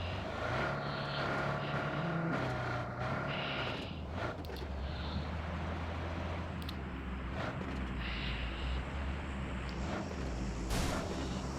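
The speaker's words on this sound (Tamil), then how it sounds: "ஃப்ளைட் சவுண்டு வேறு வெறுப்பேற்றிங்க." A steady engine drone of a propeller airplane in the game BGMI runs throughout, loud and continuous over game noise with scattered clicks and thumps.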